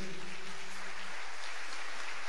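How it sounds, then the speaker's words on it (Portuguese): A church congregation applauding during a Portuguese-language service, a dense, even roar of many hands clapping at once, steady and fairly loud throughout with no pauses and no speech. "Vamos aplaudir o Senhor pela vida do Val também."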